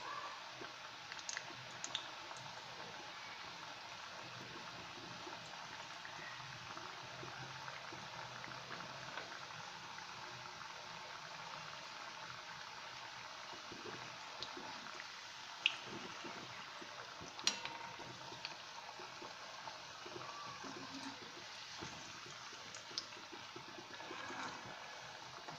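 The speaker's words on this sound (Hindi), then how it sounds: "और धीमी आंच पे इसे डीप फ्राई करेंगे।" Bhakharwadi deep frying in oil over a low flame, a soft, steady bubbling fizz with occasional small clicks and pops, faint and continuous with no talk.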